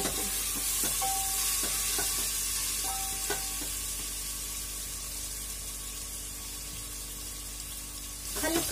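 Paneer cubes fry in a pan while being gently stirred, giving a steady broad sizzle with light scraping taps in the first few seconds, close and continuous with no talk.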